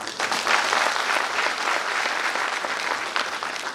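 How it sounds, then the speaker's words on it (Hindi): An audience at a speech applauds steadily, a dense wash of clapping hands that stays even for the whole stretch with no voices standing out. "आप लोग माई लाइफस्टाइल में हैं तो ताली बजा सकते हैं"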